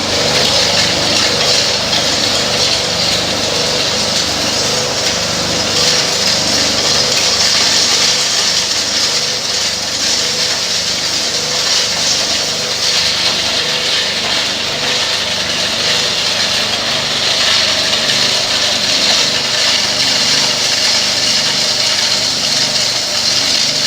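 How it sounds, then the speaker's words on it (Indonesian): A cocoa bean deshelling machine for roasted beans runs loud and steady throughout, giving a dense mechanical whir and rattle with no pauses and no voices. "Biji coklat yang sudah disangrai tadi selanjutnya dikupas kulit ari menggunakan mesin ini."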